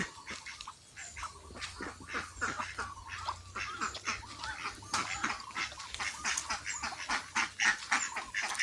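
Ducks quacking repeatedly and fairly close, a busy overlapping chorus of honking calls with no talk.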